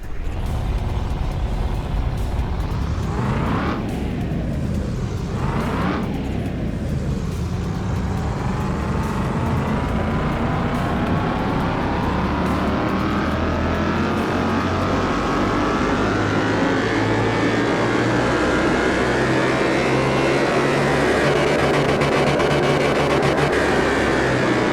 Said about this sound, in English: So I'm going to dyno test it.